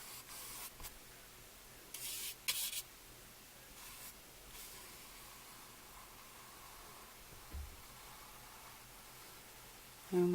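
Spray painting the base coat of a model tree, several short hissing aerosol bursts over a quiet background, close and fairly faint, with a brief knock near the end.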